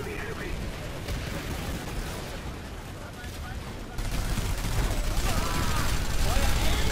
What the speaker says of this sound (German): Jetzt kommt eine Granate darüber.